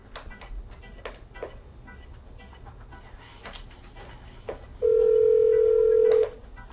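A telephone number is dialed with a run of quick clicking key taps, followed by a loud, steady tone lasting over a second.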